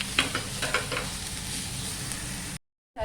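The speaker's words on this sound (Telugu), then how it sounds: "మనం బీట్రూట్ తురుము వేసుకొని కలబెట్టుకుందాం." Grated beetroot is stirred into a garlicky curry in a pan, giving soft scraping and a steady low sizzle with a few spoon knocks near the start. The sound cuts to silence briefly before the end.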